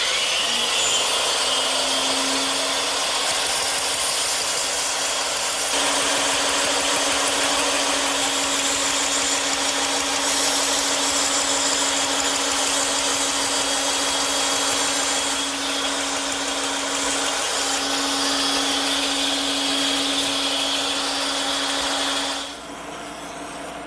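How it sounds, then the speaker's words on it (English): A bandsaw cuts a wooden column profile with a steady, loud whine and a constant motor tone that holds for about twenty seconds and then drops off as the cut ends. "And now I just have to take that over to my bandsaw and cut it out."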